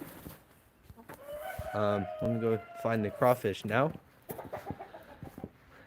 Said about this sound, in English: I can hear the roosters crowing